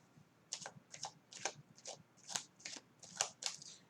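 Tarot cards are shuffled for clarification draws, making a string of about nine crisp riffling bursts in an uneven rhythm, close and fairly quiet, with no talking.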